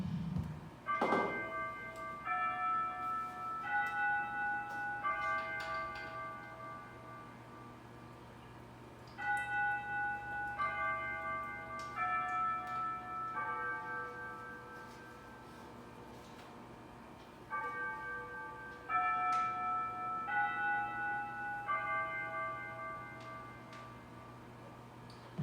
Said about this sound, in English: I'm going to wait for a second till the bell stops because I hate that bell.